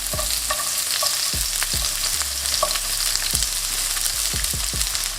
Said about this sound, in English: For our salt and pepper chips, turn up the heat around medium. And with the oil, around 2 tablespoons.